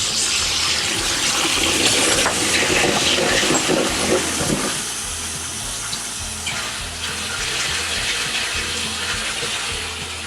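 Water rushes loudly through an RV toilet holding tank during a flush at a UK hookup and dump point, a steady close gushing roar that eases slightly about halfway through and then carries on.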